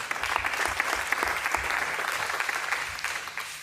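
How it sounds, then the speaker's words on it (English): Sustained applause from an audience at a Western Palm 2019 announcement ceremony, dense steady clapping lasting throughout with no speech over it. "you wanted to applaud before this would be the moment"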